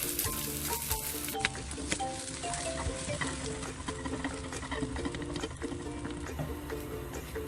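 Egg frying with okra in a pan, a steady close sizzle and crackle of hot oil with faint stirring taps, while soft background music plays underneath.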